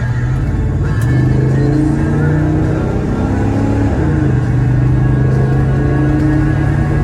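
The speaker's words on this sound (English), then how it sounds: "It goes through the gears real nice. This little V8 does have some power." A 1970 Chevrolet Chevelle Malibu V8 with a Turbo 350 automatic pulls hard through its gears at highway speed. The loud, steady engine drone climbs in pitch, then drops at each shift, with wind and road rumble underneath.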